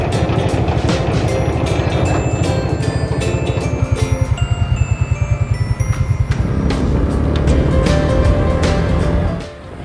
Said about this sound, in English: Let's watch the slasher at work cutting the weeds.